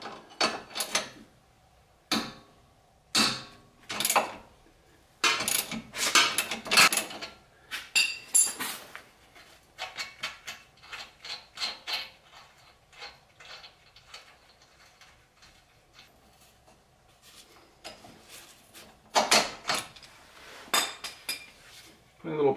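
Ratcheting wrench clicks and metallic clanks come from loosening a 17 mm bolt on the upper control arm of an Infiniti Q50's suspension during a coilover install, in irregular bursts with quiet gaps between them.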